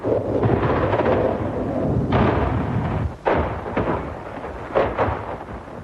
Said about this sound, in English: Wave after wave of fighter planes struck at guerrilla positions in Damour, drawing sharp anti-aircraft fire in return